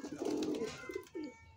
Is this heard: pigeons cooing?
yes